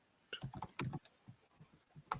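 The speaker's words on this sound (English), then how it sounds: "Okay, so I will just type a question." Keys tapped on a computer keyboard in a few quiet irregular bursts of clicks, with short pauses between them and no talking.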